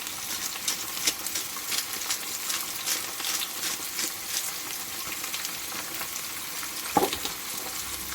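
Ground black pepper and sweet paprika sizzle steadily in a hot pan for breakfast eggs, a close, even frying crackle with a brief louder clink near the end.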